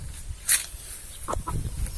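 Chickens in a pair restless around the house, giving a sharp squawk followed by a couple of short soft clucks, close and moderately quiet.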